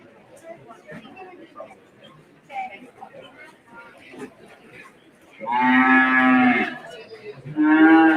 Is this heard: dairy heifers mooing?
yes